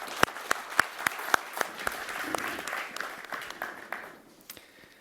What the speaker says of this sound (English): I would certainly like to also want to clap our hands for thanking our speakers for this really great discussion